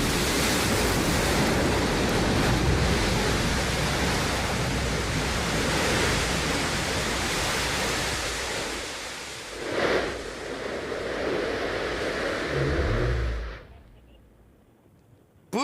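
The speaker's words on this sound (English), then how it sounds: "engine ignition, engine relight coming in for a landing" The BE-3 rocket engine on Blue Origin's New Shepard booster relights during the landing descent, a loud, broad, continuous roar that swells and fades before cutting off abruptly near the end.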